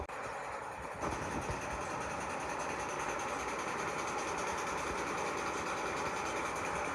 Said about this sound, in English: we're pumping that to our sludge tank, and then our sludge tank will be pumped to shore